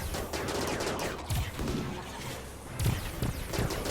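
Gunfire from the video game RimWorld crackles in quick bursts during a fight with bugs, with a couple of heavier booming volleys standing out, and no speech.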